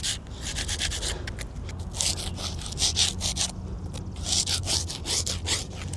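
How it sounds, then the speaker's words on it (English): A large hand scraper rasps lichen off a stone headstone in short, repeated rough strokes, close and fairly loud, with no one talking. "I have a bigger area here, so I'm gonna use my bigger scraper"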